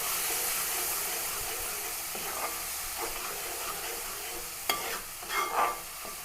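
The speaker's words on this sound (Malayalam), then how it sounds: "അരച്ച് വെച്ചിരിക്കുന്ന അരപ്പ് അങ്ങോട്ട് ഇട്ട് കൊടുക്കുക അരപ്പൊന്നും ഇതിലൊന്ന് വാട്ടാം" Ground coconut spice paste with cumin, garlic and turmeric sautés in a pan. It gives a steady, close sizzle with soft stirring scrapes throughout, and a few sharper spatula strokes come near the end.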